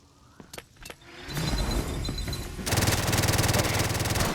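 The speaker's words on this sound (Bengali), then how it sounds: "ভাই আমি এই জায়গাতে অন্ধ ফায়ার করছি" Blind, rapid gunfire in a Hot Zone shooter game: a few sharp separate shots, then sustained automatic bursts building into a dense, loud rattle.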